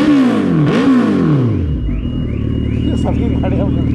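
A motorcycle engine revs hard up and down close by, then settles into a steady idling rumble.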